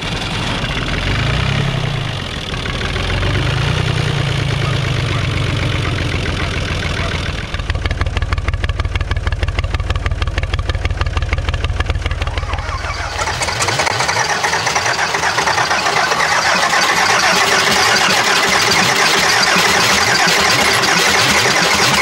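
Old diesel engine cold starting: a loud roaring, whining crank gives way to a heavy, rapid knocking idle that runs steadily and loud to the end.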